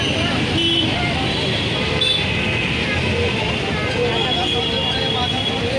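A bus on the Borivali–Kankavli route pulls away amid steady traffic and engine rumble, a constant close wash of road noise with a faint horn toot, while a person talks over it.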